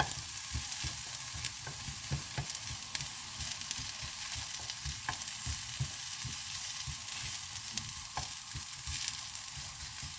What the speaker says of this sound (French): je vais revenir mes oignons, j'ai rajouté mes lardons